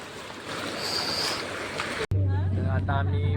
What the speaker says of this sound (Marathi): आता आम्ही बसलोय बोट राईड मध्ये